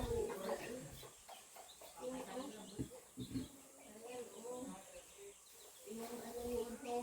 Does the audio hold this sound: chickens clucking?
yes